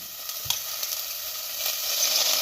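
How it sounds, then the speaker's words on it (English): Onion and garlic sautéing in a pan for gravy, a steady bright sizzle and crackle with a few soft stirring knocks, close and continuous with no talking. "We're going to saute it up."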